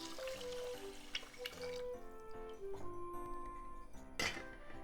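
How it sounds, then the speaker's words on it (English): Water is poured into a pot holding two cups of rice. There is a soft, steady trickle with light clinks of the pot and utensils, quiet and close, and no talking. "It's 2 cups of rice, so I'm adding 2 cups of water."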